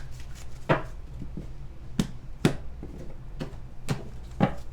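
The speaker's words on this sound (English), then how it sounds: "let me just shuffle these clarifiers and we will begin" Tarot clarifier cards being shuffled by hand, a handful of crisp riffling slaps and flicks spaced irregularly over a few seconds, close and moderately quiet with no talking.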